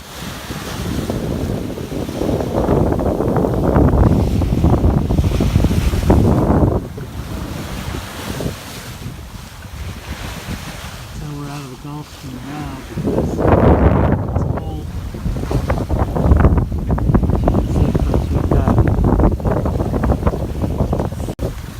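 Steady, loud wind gusts buffet the microphone over rushing water while sailing on a lake, with a brief murmur of a voice partway through.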